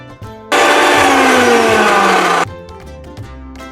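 An electric kitchen grinder blends onions and tomatoes in one loud whirring burst of about two seconds, its pitch sliding slightly downward as the load breaks up, with quieter clatter before and after.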